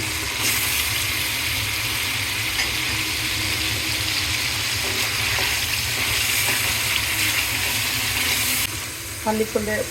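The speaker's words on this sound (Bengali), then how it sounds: "প্রথমে আমি দিয়ে দিব ভেজে রাখা কপিগুলো" Fried cauliflower pieces go into a hot pan for a rohu fish curry with potato, beans and tomato, setting off a loud, steady sizzle and frying hiss that holds for about nine seconds before easing, with a few stirring knocks near the end.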